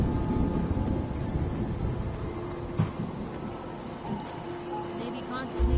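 Steady, dense rain pours in a video game, with low thunder rumbling underneath, a continuous loud wash that swells slightly at the end.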